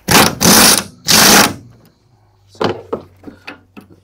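Ratchet and socket working a front shock absorber bolt on a Renault Twingo, heard as a few loud, close bursts of rapid clicking, then a pause and scattered lighter metallic clicks and knocks.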